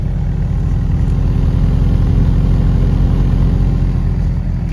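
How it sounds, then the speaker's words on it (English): Steady, loud idle from the exhaust of a twin-engine Honda CRX with a rear-mounted second engine, a deep continuous rumble with a low throbbing pulse and no voices over it. "And then the exhaust note out back."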